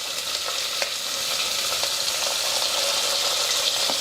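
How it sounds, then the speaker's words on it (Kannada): Beans, tomato, potato and curry leaves fry together in oil for pudina pulao, making a dense, steady close sizzle broken by faint crackles and stirring clicks. "ಇದು ಎಣ್ಣೆಗೆ ಒಂದು ಸ್ವಲ್ಪ ಫ್ರೈ ಮಾಡ್ತೀನಿ."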